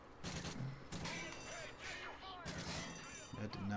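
AK rifle fire in Call of Duty MW3, a rapid fusillade of gunshots mixed with dense game noise and some voice underneath, steady and moderately loud across the short span.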